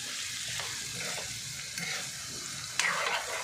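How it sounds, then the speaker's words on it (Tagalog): Bitter gourd (ampalaya) frying in a pan while being stirred, a soft continuous sizzle with faint scraping strokes and a slightly louder clatter near the end, no talking. "Dito ako nagluluto ng ampalaya, pang pananghalian."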